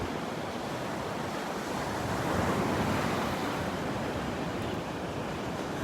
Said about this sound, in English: I'm standing on Vanderbilt Beach, the very northern end of Vanderbilt Beach